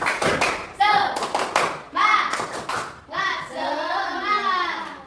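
Children in a classroom perform a rhythmic group clap, short bursts of sharp hand claps alternating with their chanting voices, loud and close.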